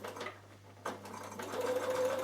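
A Bernina sewing machine stitching a curve, its steady mechanical whir running close and fairly quiet, then rising into a louder, continuous hum toward the end with no talking.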